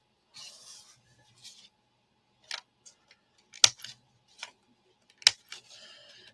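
Sharp scissors snip through the corners of a handmade wallet, giving scattered crisp cuts at an uneven rhythm, with a few louder close snips standing out against quiet pauses.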